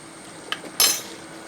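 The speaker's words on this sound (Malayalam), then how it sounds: "ഉപ്പ് പൊടി ഇട്ട് ഇളക്കി" Salt and spice powders are stirred into a sweet snack mixture with a metal spoon, giving a couple of brief clinks and a short scraping clatter against the vessel, close and otherwise quiet.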